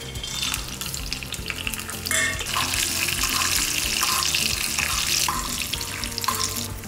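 Sun-dried vathal berries fry in oil for a tangy tamarind gravy, giving a dense, close, bubbling sizzle that swells after a few seconds and stays steady.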